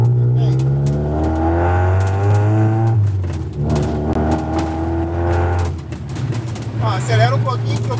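A Ford Escort with a Zetec engine being tuned on its fuel injection map, revving loud and close with rising and falling engine pitch over several seconds, while people talk over it.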